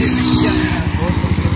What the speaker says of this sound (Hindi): ये मेरा बाइक पहुंचा है जी मेरे पास खुद ही।